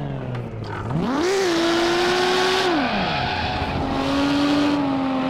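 Lamborghini Miura P400SV in the Assetto Corsa driving game, its engine revving up sharply, holding a steady drone, dropping, then climbing again, with faint tire squeal during oversteer, loud and close with no talk.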